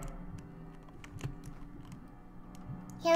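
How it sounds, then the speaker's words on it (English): Soft, scattered clicks of a computer keyboard being typed on in a quiet room, faint and irregular, with no talking over them. "No, you're hearing my keyboard"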